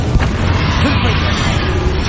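Confringo blasting curse fired during a boss fight against Ranrok in Hogwarts Legacy, giving a loud, dense burst of fiery blast noise that keeps roaring through the whole moment amid battle effects.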